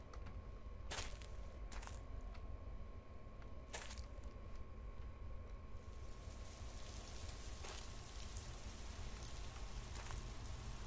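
Rain falls in the indie horror game Apparition, a steady broadband hiss at low level that swells slightly partway through, with a few sharp clicks or ticks standing out above it.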